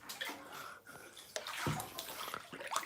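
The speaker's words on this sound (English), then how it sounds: "I'm going to put the bubbles back on because it's a bit quiet in here" Hot tub jets and bubbles churning steadily, a continuous broad watery rush with sloshing, fairly close and filling the whole stretch with no pause.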